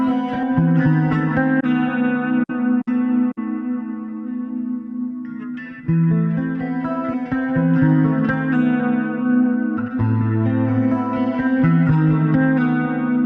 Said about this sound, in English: let's end this up with a nice reverb.